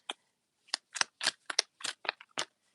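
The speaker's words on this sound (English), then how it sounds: "Let me shuffle these cards real good" A tarot card deck being shuffled: a sequence of about nine short, crisp papery snaps spaced irregularly, close and fairly quiet, with silence between them.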